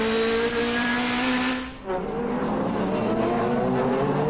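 A DTM touring race car at the Norisring hairpin roars loudly under braking, its engine note sliding down in pitch as it slows, with a sharp downshift dip midway before the droning engine settles.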